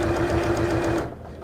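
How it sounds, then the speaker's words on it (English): A sewing machine runs steadily, stitching a fabric side pouch, its motor hum and rapid needle rhythm close and loud for about a second before stopping abruptly. "This is stitching absolutely fine now."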